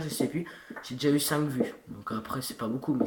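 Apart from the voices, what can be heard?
No everyday noise stands out behind the speech.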